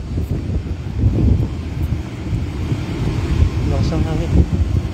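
Strong wind buffeting a microphone outdoors at a solar panel worksite in Italy, a loud rumbling roar that gusts and dips without pause, with people talking under it.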